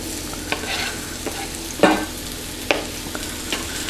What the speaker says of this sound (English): we'll just pop the onions and the garlic in